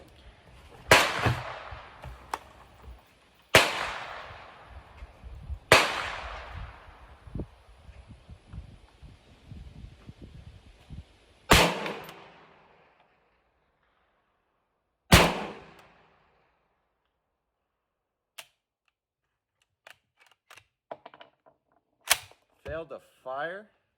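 Rifle shots are fired at a target on a range, each a loud sharp crack with a decaying echo. Five shots come at uneven intervals, followed by faint clicks and handling noises of the rifle.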